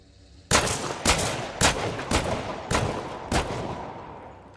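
A reworked New Army gun fires six sharp shots in a video game, each a loud crack with a short decaying tail, spaced roughly half a second apart, with no talking over them.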